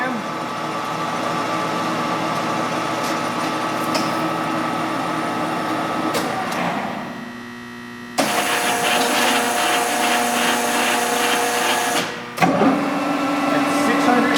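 A Leblond 15-inch by 54-inch servo shift lathe runs steadily with a continuous mechanical hum and whine, its pitch and character shifting sharply twice as speed changes.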